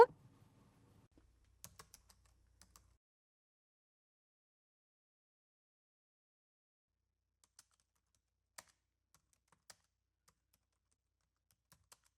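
A few faint keystrokes on a computer keyboard as a text prompt is typed, sparse taps and short clusters scattered across long near-silent gaps.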